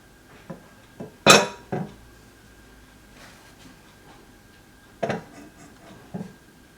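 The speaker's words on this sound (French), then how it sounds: "je vais changer de récipient pour mettre de l'eau froide de manière à bien stopper toute la cuisson" Foie gras mi-cuit is moved into another container for cold water. A handful of distinct clanks and clatters of dishes are spaced apart, with near-silence between them.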